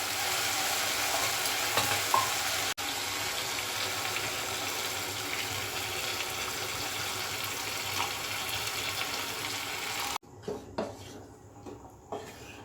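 Steady loud sizzling of Bengali chicken potato curry frying in a pan with occasional stirring clinks, then a sudden drop as water is poured in and the sizzle softens.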